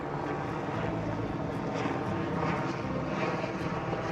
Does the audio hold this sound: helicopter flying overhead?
yes